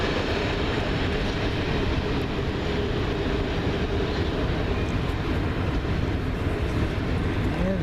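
A heavy CN freight train rumbles past close by at Ladysmith, a loud, steady roar of wheels and rail cars with faint clatter running throughout.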